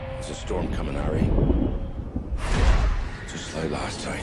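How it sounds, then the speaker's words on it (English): Thunderstorm rumble in a Harry Potter film trailer, loud rolling thunder swelling twice with whooshing, mixed under dramatic voices. "There's a storm coming, Harry."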